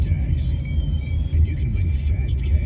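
A sports car rolls up to a store with a low, steady engine rumble close by, while a person talks over it.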